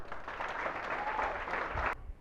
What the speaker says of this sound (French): Applaudissez pour la balle.